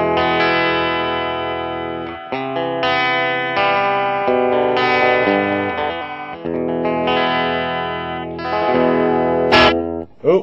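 Electric guitar played through a modded RAT distortion pedal set low as a clean booster, sustained chords and notes ringing with thick harmonic grit, ending in a sharp click.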